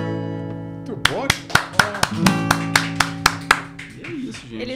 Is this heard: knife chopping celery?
no